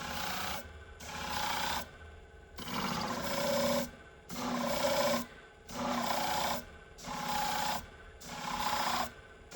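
Nicked ABOVE shears are sharpened slowly and gently in about six even passes, each a loud rasping grind lasting over a second, separated by short quiet gaps.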